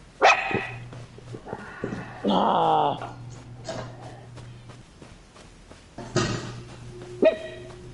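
Several dogs bark in the Elder Scrolls Online video game. The barks come in sharp, separate bursts with some yips and whimpers, spread across the clip, and a person speaks briefly between them.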